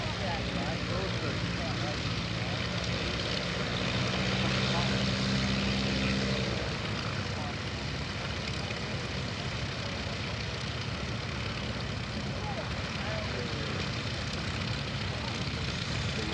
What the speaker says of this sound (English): The JU-52,